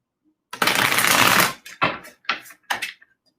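A deck of tarot cards is shuffled close up at a desk: one long riffling burst followed by three short, crisp shuffles, with no talking.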